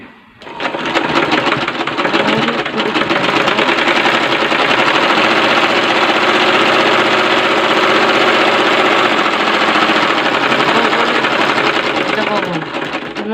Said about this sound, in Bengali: এখান থেকে সেলাই ধরবো আমি